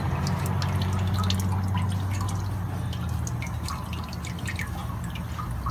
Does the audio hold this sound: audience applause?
no